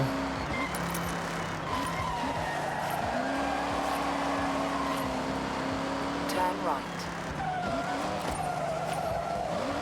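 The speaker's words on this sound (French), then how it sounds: "C'est le son des bagnoles, gros." Racing car engines drone steadily with occasional tire squeals in the video game Forza Horizon, a continuous engine roar heard at low level throughout.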